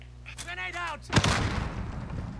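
A grenade detonates in a video game shooter with a sharp, heavy boom that tails off into rumbling debris. It follows shortly after a voice calls out.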